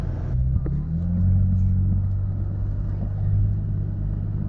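A Toyota Tacoma TRD Pro pickup truck engine idles with a low rumble, then its pitch rises as it revs in Sport Plus mode, steady and close, with no talking.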